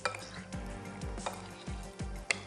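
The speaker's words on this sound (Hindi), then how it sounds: "तो मैं इन तमाम चीज़ों को कर लेती हूँ मिक्स" Marinated chicken pieces being mixed with spices in a bowl, giving a run of repeated soft clattering strokes of utensil against dish, close and fairly steady, with no talk.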